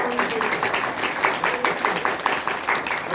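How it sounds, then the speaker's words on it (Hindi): Audience applause at a Sanskrit and Hindi teaching gathering, a steady dense patter of many hands clapping at moderate loudness, sustained throughout without a break. "क्या बात, जोरदार ताली।"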